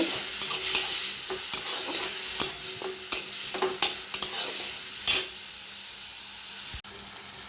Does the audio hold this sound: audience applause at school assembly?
no